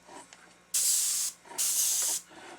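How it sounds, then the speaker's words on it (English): Two short bursts of spray paint lightly misting a bass fish taxidermy mount during painting, each hiss lasting about half a second, close and steady, with a brief pause between them. "we're just going to go ahead and give this a slight mist"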